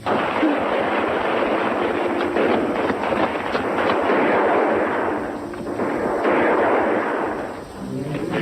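Heavy booming artillery fire rolls and crackles continuously, loud and dense, with overlapping blasts and rumbling echoes throughout.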